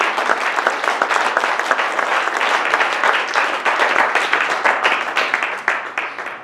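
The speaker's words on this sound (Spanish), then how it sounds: "Denle ese aplauso con gozo, con alegría." A church congregation applauds together in a dense, steady burst of clapping that stays loud and close for several seconds, with no voices standing out.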